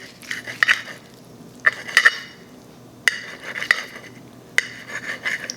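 A knife saws through a bacon-wrapped chicken bomb cooked on a Weber Performer Deluxe grill, making sharp, crisp scraping strokes in short repeated bursts, close and fairly loud, with no talking.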